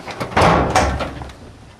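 Over-center handle latches the water tank doors on a Forest Service seaplane, giving two clunky mechanical knocks close by, about a third of a second apart, with no talk.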